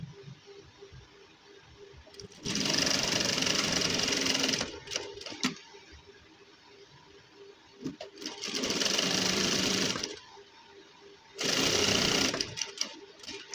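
A sewing machine stitches the edge of a gents suit in three long, steady runs, loud and close, with short pauses and soft handling noises between them.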